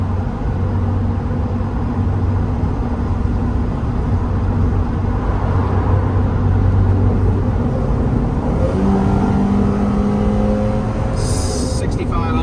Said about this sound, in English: RPM shift there, downshifted immediately. Very responsive. We went from about 65 to 90.